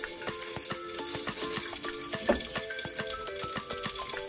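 Food cooking in a pot over a fire, with a steady sizzle and bubbling wash running throughout, light clinks and taps scattered across it, and one louder knock near the middle.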